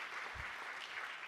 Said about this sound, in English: So another round of applause for Brett McSweeney.